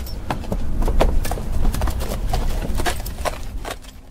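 Horse hooves clip-clop in a steady, uneven walking rhythm, close and clear, with a continuous low rumble underneath and no voices.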